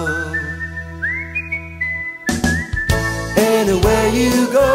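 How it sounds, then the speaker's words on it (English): Someone whistles a cheerful melody alone, then a band with drums and instruments joins in beneath the whistled tune. "and I'll whistle."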